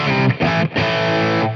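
Distorted electric guitar through a Bias FX Britmania preset, with parallel delay on one amp and reverb on another, blending a Marshall 800-style and a Plexi-style amp; loud sustained chords with brief dips between strums, no talking.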